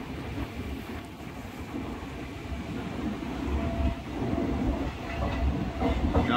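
Rewari–Delhi passenger train rolling along near Patel Nagar station, a continuous low rumble with faint wheel clatter that swells slightly toward the end, heard from inside the coach.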